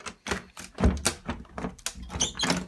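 A basement door that is locked is tried several times, giving a run of dull thunks and rattles in an irregular rhythm, close by and fairly loud, with no talking.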